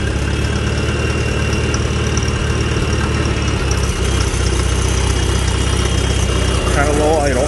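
A Farmall Super A tractor engine runs at low idle with a steady, even mid-low chug that holds through the clip.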